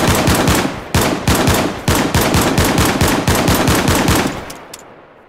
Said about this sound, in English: I'm gonna shoot this.